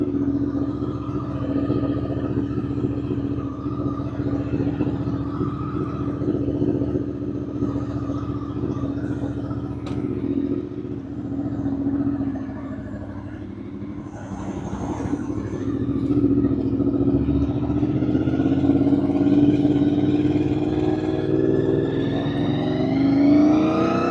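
A motorcycle engine runs steadily and close as the rider pulls away from a workshop, with rising revs toward the end as it accelerates.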